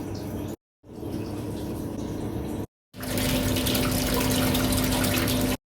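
Water rushes steadily out of a Maquet HCU 40 tank during a rinse cycle, a loud continuous gushing flow with a steady tonal pump hum, broken by two brief silent gaps.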